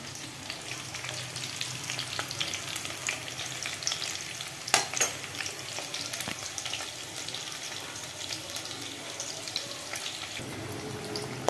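Snacks sizzle and fry in a pan in a home kitchen, a continuous low crackle with occasional stirring clatter and one sharp knock midway, fairly quiet and without talk.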